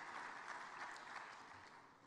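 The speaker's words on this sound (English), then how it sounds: "Can we give another round of applause to the young people for that energetic start?" A large audience at the Commonwealth Business Forum opening ceremony applauds in a hall, a faint, even wash of many hands clapping that slowly fades.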